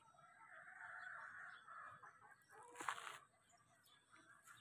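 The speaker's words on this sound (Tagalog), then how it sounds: "Daming manok oh." Chickens cluck faintly in a rural village neighborhood in Tarlac, with a short burst of louder activity midway through a quiet outdoor scene.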